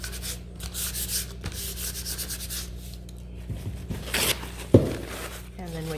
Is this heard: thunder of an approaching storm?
no